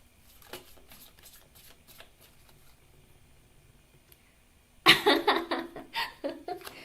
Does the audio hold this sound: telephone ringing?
no